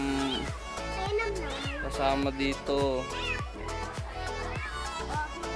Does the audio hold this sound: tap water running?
no